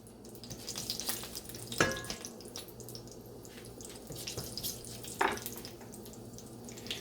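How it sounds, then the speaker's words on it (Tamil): Fennel seeds crackle and sizzle in hot oil: a steady frying hiss with a couple of sharper pops standing out, close by, with no talking. "பெருஞ்சீரகம் வெடிச்சிருச்சு."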